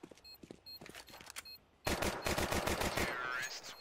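Counter-Strike gunfire: scattered single shots first, then a dense, loud burst of rapid automatic fire, close and alone.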